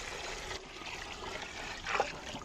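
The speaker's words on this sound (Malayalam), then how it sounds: "വെള്ളം ഒഴിച്ചു കൊടുക്കുക." Water pours into a cooking pot holding onion, garlic and ginger paste for a mandi rice dish, making a soft, steady trickle that swells briefly near the end.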